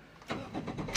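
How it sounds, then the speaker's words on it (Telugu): A Toyota Etios petrol car's engine cranks and catches, a brief mid-pitched starting sound heard close by with no talking. "వెహికల్ స్టార్ట్ చేసిన"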